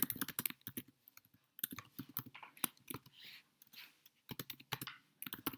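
Typing on a computer keyboard comes through as quick, irregular bursts of close, crisp key clicks, separated by short pauses.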